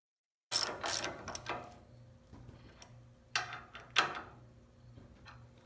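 Bolts being snugged up on a Wilwood big brake caliper with shims, a ratchet clicking in short bursts and several louder metallic clicks, close and alone.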